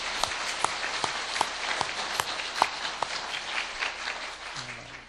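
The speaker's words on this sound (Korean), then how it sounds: "박수 한번 하도록 하겠습니다." A church congregation applauds in a large hall, a steady, moderately distant patter of many hands with a few sharper claps standing out, fairly soft throughout.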